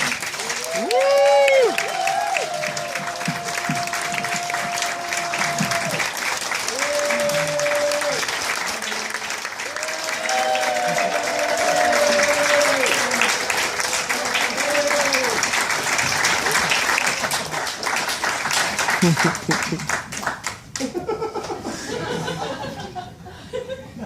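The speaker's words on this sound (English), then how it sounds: "give her a really, really big round of applause and a welcome to the stage" Sustained applause and clapping from a large audience welcoming Judy the Monkey to the stage, loud and continuous, with chuckles and laughter mixed in before it thins out near the end.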